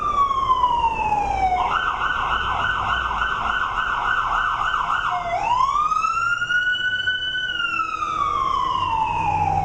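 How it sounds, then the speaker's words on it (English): A loud siren wails steadily in Reading, Pennsylvania, shifting between a rapid warble and slow rising and falling tones, with traffic noise underneath. "Sorry about the sirens, guys."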